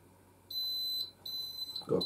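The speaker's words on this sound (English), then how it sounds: "As you can see, we've got a pre-alarm." An Apollo Discovery multi-sensor smoke detector under test gives a pre-alarm: shrill high-pitched beeps in two pulses, each about half a second long, close by, followed by a low murmur at the end.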